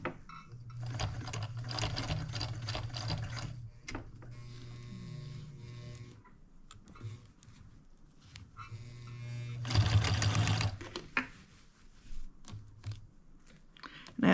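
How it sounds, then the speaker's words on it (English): A sewing machine stitching a girl's Christmas dress, with bursts of rapid mechanical whirring that start and stop between pauses. "I'm going to come in a half inch and start sewing from the bias."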